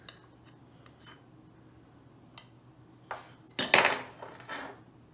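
Paneer, onions and peppers tossed in a lime-juice and oil marinade in a bowl, giving a few soft wet clinks and scrapes, with one louder burst of clattering near the end, close and without talk.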